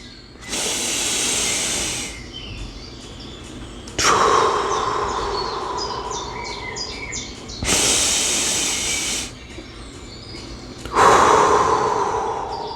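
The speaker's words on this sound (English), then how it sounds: "taking slow, deep breaths for a time can help you feel more balanced and in control" Slow, deep breathing done as a calming exercise: four long, airy inhale-and-exhale sounds, close and fairly loud, each lasting a couple of seconds, with quiet pauses between them and no talking.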